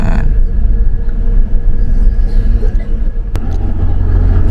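Steady low rumble of a coach bus cabin cruising onto the Warugunung toll road at night, on an overnight Surabaya to Jakarta run, with continuous engine and road drone and a brief click near the end.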